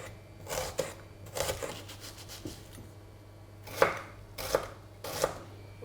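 A knife chopping onion on a cutting board in a home kitchen while making a crustless shrimp quiche, with several short clustered bursts of crisp cutting taps separated by pauses, close and alone.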